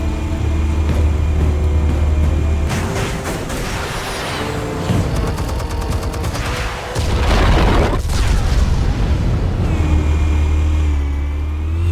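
Explosives detonating in the Batman Telltale Series video game, a long run of heavy booms and rumbling blasts over a steady musical drone, with a sharp loud burst near the middle and a fading tail at the end.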